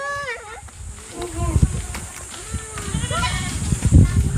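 A farm goat bleats several times while eating sour mangoes, wavering calls mixed with chewing and rustling nearby as people talk over it.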